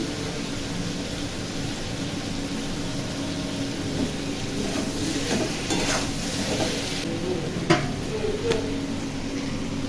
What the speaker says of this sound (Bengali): এখানে বড়াগুলো চাপিয়ে দিয়েছিলাম, বেসনের বড়াগুলো একটু উল্টিয়ে দেবো